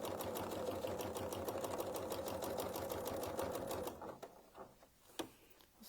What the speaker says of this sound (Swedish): Och så kan vi sy lite fria cirklar